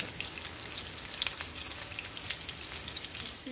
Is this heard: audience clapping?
no